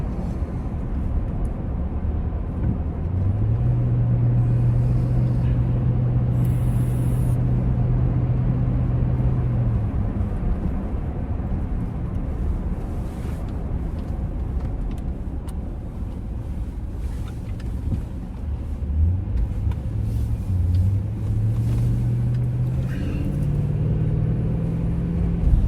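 Steady, loud engine rumble and road drone from inside an 11-year-old car with 320,000 kilometers on it, holding constant while driving, with a couple of rising engine tones and no talk.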